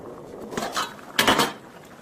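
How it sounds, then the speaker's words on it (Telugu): A lid set onto a pot of korameenu fish curry in a home kitchen, heard as two quick metallic clanks, a lighter one followed by a louder clattering settle, close by with no talk. "ఇప్పుడు మూత పెట్టాలి 5 మినిట్స్."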